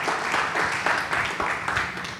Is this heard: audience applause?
yes